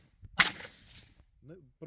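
A single sharp bang with a brief decaying tail, fairly close, followed by a few quiet words of speech.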